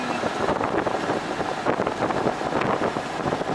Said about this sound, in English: Just enjoying the wind.